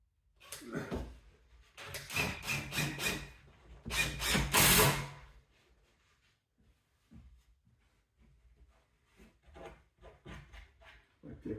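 A power driver sends screws into a bedroom wardrobe panel in short bursts of rasping, ratcheting whirr with pauses between them, and quieter clicks and handling noise follow.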